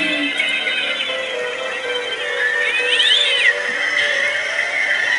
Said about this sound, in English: Creepy carnival music with cool cat sounds and other stuff.